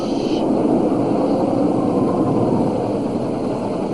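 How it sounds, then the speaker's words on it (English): A continuous, steady engine drone with a low rumbling hum holds at an even level throughout, like a helicopter heard from inside a cabin. "Sounds like a helicopter."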